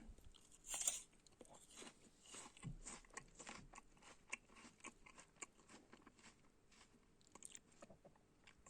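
Someone bites into a juicy winter pear that has lost some of its firmness and then chews it, giving a crisp bite followed by soft, wet, repeated chewing and crunching close up and quiet.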